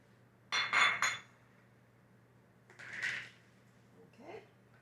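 Crumbled sausage is stirred in a pan, with a few close scraping and clinking bursts of a utensil against the pan, separated by quiet pauses.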